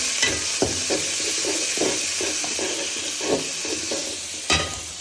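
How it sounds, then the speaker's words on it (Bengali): Fish frying in a pan with spice paste, a loud, continuous sizzle and hiss close by, broken by several sharp stirring scrapes and knocks of the utensil against the pan. "মাছ ভাজি হইল লাস্ট একটু মশলাটা বসিয়ে দিলাম"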